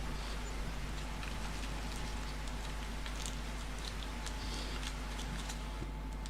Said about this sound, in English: Let's fast forward time a bit, say till midday, and hope the rain stops.